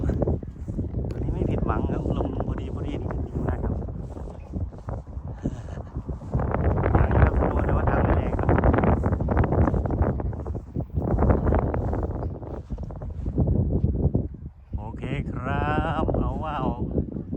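Steady light wind gusting against the microphone while a large Thai Chula kite, 103 cm across, flies in a gentle breeze; broadband rushing swells and dips throughout, with a voice talking over it.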